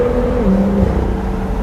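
BMW M2 fitted with a catless VRSF downpipe, its exhaust giving a loud, steady low rumble close by with a brief deeper swell in the middle.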